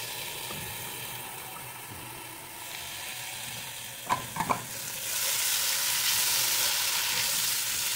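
Tomatoes dropped into onions already sautéing in a pan, a low sizzle broken by a couple of quick knocks, then a louder, brighter hiss as the tomatoes hit the oil, close and unspoken over.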